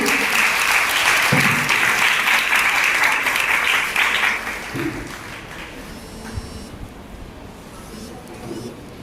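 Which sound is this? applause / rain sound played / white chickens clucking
applause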